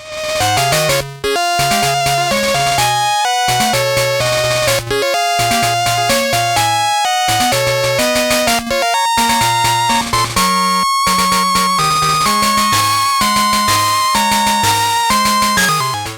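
Bright chiptune Route 26 video game music with a bouncy square-wave melody over plucky bass notes, loud and upbeat, with brief rhythmic gaps between phrases.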